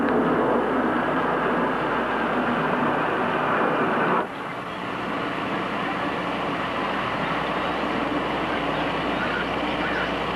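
A played recording of a military aircraft circling overhead: a loud, steady engine roar that drops slightly partway through and keeps droning on, with no talking.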